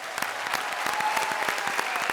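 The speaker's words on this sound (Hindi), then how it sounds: "अनिल जी के लिए थोड़ी बहुत तालियां हो जाए।" An audience claps for an actor at a comedy show, a short burst of dense, even applause with sharp individual claps standing out close by.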